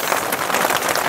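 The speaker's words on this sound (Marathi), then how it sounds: "पण जोरदार पाऊस आहे." Heavy rain in a Konkan village pours down as a dense, loud, steady hiss of drops striking surfaces throughout the short stretch.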